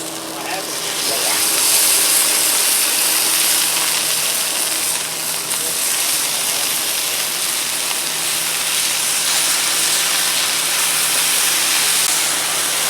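Pork chops sizzle on a Blackstone griddle, a steady broadband hiss and crackle that holds close and even throughout without a break.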